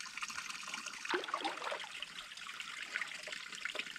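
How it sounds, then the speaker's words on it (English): Water trickles and dribbles steadily down near a pond on crown land during a camping trip. The wash is soft and continuous, with no voices. "There's more water on this side coming down as well."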